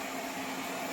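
An Airzeen robot vacuum cleaner running indoors: a steady, even whir with a broad airy hiss and a faint motor hum, constant and unbroken throughout.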